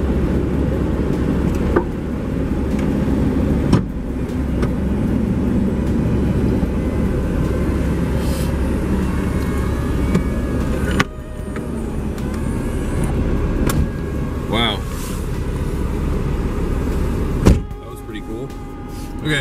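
Motor whirring steadily as the convertible top of a Porsche C4S rises in freezing weather, loud and close under a rumbling cabin hum, with several clunks and latching thuds near the end.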